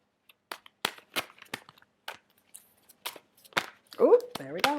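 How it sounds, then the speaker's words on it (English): Tarot cards are shuffled by hand in a string of crisp snaps and riffles with short pauses between them, close and clear, and a voice comes in at the end. "How do you shuffle your cards?"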